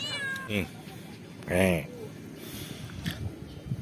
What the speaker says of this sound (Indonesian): Ada kucing juga di sini.